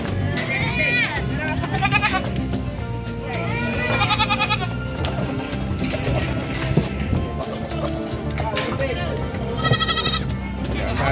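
Goats bleat repeatedly at a busy Philippine livestock market in Malasiqui, several loud, wavering calls rising over a dense crowd murmur with someone speaking throughout.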